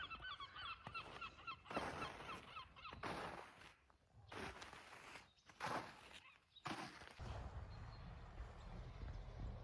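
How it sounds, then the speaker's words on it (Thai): A flock of geese honks loudly in a snow-covered winter garden, bursts of overlapping calls coming and going over a low rumbling background. "เสียงห่านค่ะ"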